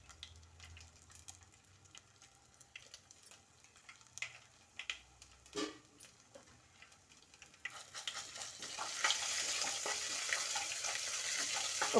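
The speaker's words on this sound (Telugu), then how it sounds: "ఇంకా పసుపు కూడా వేసి అల్లం వెల్లుల్లిపాయ పేస్ట్ పచ్చివాసన పోయేంత వరకు ఫ్రై చేయాలండి." Ginger garlic paste and turmeric frying in a pan for an eggplant curry: soft scrapes and clinks at first, then a steady, louder sizzle that swells and holds through the final few seconds.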